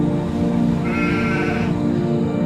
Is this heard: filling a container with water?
no